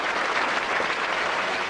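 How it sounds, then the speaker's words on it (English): Studio audience applauding steadily on a quiz-show set, a dense, even wash of clapping that fills the whole short stretch at moderate level with no voices. "Let's give a round of applause."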